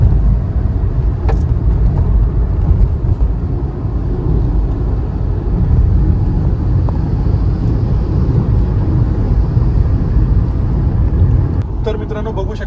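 A Tata Punch AMT car cruises on the Samruddhi highway, giving a steady loud low road and engine rumble with wind noise throughout.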